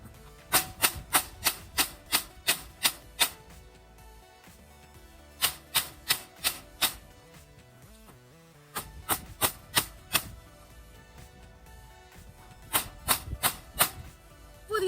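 A 4-pound sledgehammer driving a real estate sign into frozen ground, sharp metallic blows in several fast bursts of five to eight strikes each, loud and close, with short pauses between bursts.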